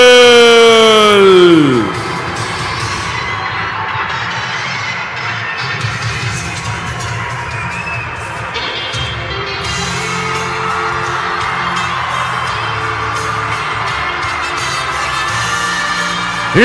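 A mixed arena crowd at a CMLL lucha libre event cheers and whoops in an ovation for the wrestler Diamante Azul. A loud roar holds steady for the whole stretch, with entrance music playing underneath.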